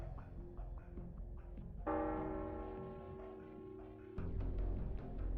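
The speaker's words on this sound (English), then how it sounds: "Clement has rung the bell." A church bell in the video game Arknights rings out with a long, sustained metallic tone, then a second strike comes in louder over a low rumbling background.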